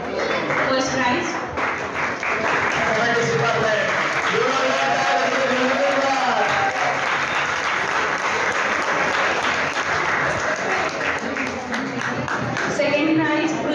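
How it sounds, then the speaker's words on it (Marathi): An audience at a science club event for Einstein's birthday applauds a prize announcement with steady, loud clapping that lasts throughout, while a voice speaks over it partway through. "टाळ्या टाळ्या जोरदार जोरदार."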